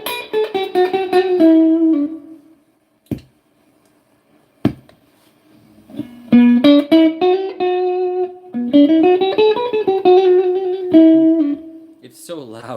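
Electric guitar through an amp and a Hall of Fame digital spring reverb plays sustained notes and sliding phrases, loud and close, with brief pauses and a couple of sharp taps between passages.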